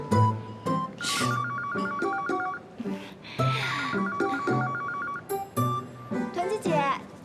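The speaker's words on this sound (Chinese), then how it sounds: "有电话" A telephone ringing in a drama scene, its electronic ringtone repeating in bursts alongside music while people talk over it.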